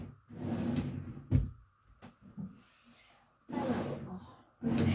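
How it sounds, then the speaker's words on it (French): Drawers being pulled open and rummaged through while looking for a small crocodile clip, several rustling, sliding bursts with knocks in between, close and moderately loud. "je cherche dans mes tiroirs"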